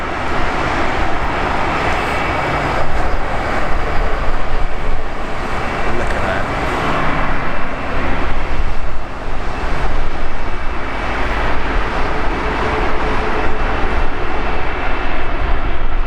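An Airbus A350 airliner at London Heathrow gives a loud, sustained jet-engine roar that swells and holds for the whole stretch, with a brief spoken remark over it.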